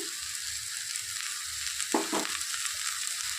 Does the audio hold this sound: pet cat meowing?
no